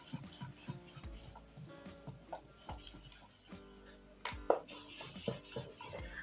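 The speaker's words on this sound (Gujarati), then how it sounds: "ત્યાર પછી આપણે સરસ રીતના ફેટી લઈશું" A spoon beats rapidly against a bowl of dhokla batter, a steady rhythmic tapping and scraping, close and fairly quiet, with a sharper clink near the end.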